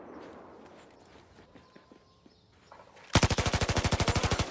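An MG4 light machine gun in Battlefield 4 opens up loud and close in a long rapid burst of evenly spaced shots after a quieter stretch of distant battlefield noise and footsteps.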